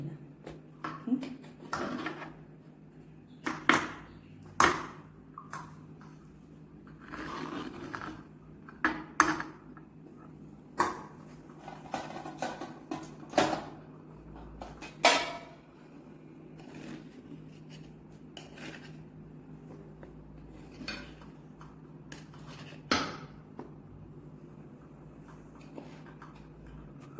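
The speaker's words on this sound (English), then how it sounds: "This is how you remove it from the tray. Just use a little spoon and go round." Small spoon clinking and scraping around a metal idli tray, lifting out freshly steamed idlis; repeated sharp metallic taps and scrapes come at an uneven pace, close up, with a low steady hum underneath.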